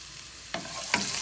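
Ginger and garlic hitting hot oil in a pan, two short bursts of sizzle and stirring about 0.4 s apart over a quiet background, fairly close.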